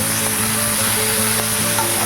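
Cumin seeds tempering in hot oil in a wok, with onion going into the pan: a steady, close sizzle of frying with faint stirring scrapes, continuous and fairly loud, no talking.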